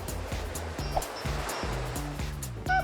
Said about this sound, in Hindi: लहरें।